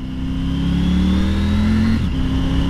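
A Triumph Tiger 900 motorcycle engine revs up close and loud, pitch climbing steadily before a quick shifter snaps through a gear change with a brief dip, then pulling on again.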